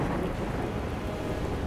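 Heavy rain pours steadily in the Enlisted video game, a dense, constant wash of rainfall with a low rumble of thunder beneath, heard alone without voices.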